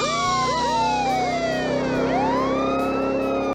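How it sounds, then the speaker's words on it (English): Futuristic electronic police siren from a movie police truck, a loud continuous warble with rising and falling sweeps and charging, recharging swoops, heard alone for a few seconds before cutting off abruptly. "this system makes a unique charging and recharging sound that seems designed more for alien invasions than law enforcement"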